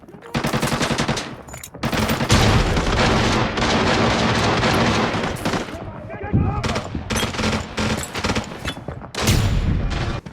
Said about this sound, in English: They shoot me.